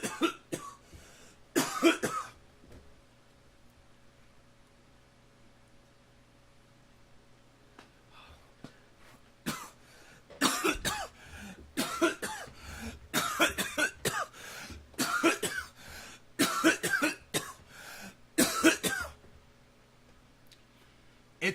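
A person coughs repeatedly in close, harsh bursts and clusters separated by quiet gaps, with some throat clearing mixed in.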